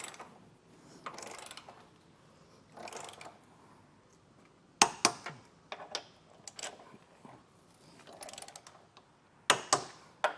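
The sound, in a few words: 3/8 torque wrench ratcheting, tightening hitch bolts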